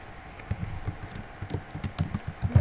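Keys clatter on a computer keyboard in quick, uneven bursts of clicks, close and moderately loud. The typing sounds alone, with no one talking.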